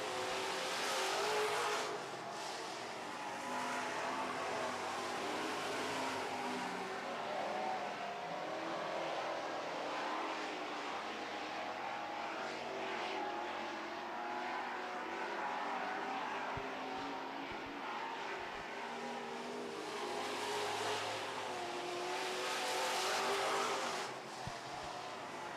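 Super Trucks roaring around a race track in a heat race: a steady, loud engine drone from the passing field, swelling as trucks come by, with no voices.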